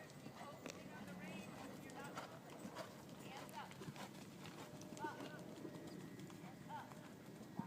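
A horse's hooves clip-clop in a steady rhythm during canter transitions in a riding lesson, a faint, fairly distant beat with a few soft snorts and a voice talking over it.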